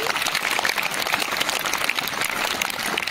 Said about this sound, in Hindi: एक बार जोरदार तालियां उन सभी